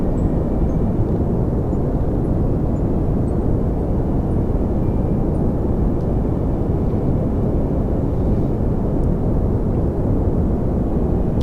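Rocket engine thrusting during a Minmus landing in Kerbal Space Program, a loud, constant low roar that holds steady throughout, with no voices.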